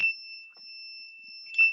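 A continuity tester emits a continuous, piercing electronic tone while probing the UART header pins of a WRT54G router board, close and steady throughout, with a faint scrape near the end.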